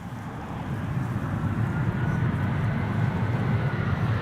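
An Iberia Express Airbus A320 lands at Amsterdam Schiphol with idle thrust reversers, giving a steady, fairly distant low roar and rumble that swells slightly, mixed with wind noise.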